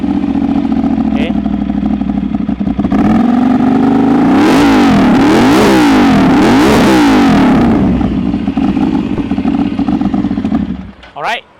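A 2014 Ducati Monster 796 ABS with an SC Project exhaust starts up and idles with a deep, loud burble, then revs hard several times in sharp rising and falling bursts before settling back to idle and shutting off.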